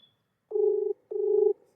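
Two steady electronic tones from a phone while a call is being dialed, each lasting about half a second with a short gap between them. They sound clear and close, with no talk over them.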